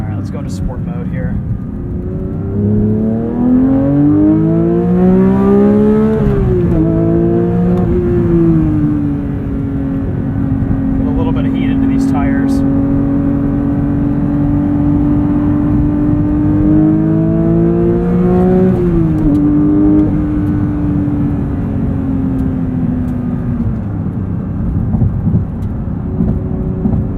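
A Porsche 911 GT3 with a manual gearbox accelerating in sport mode on a highway, its engine droning loudly and steadily with repeated rising revs and gear changes.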